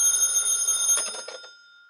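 A telephone rings in an old-time radio mystery drama, one bright ringing bell burst with a metallic shimmer that stops and leaves a fading tone, heard alone and fairly loud.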